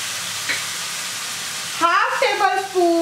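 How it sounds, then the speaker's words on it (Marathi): Prawns frying in a pan with soy sauce, chilli sauce and tomato ketchup, a loud steady sizzle close up, briefly joined by a voice speaking over it near the end. "आता आपण हे व्यवस्थित फ्राय करून घेणार आहोत"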